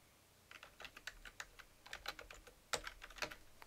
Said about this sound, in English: So I'll just click and just type in something.